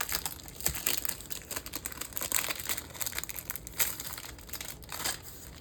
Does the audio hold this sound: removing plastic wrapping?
yes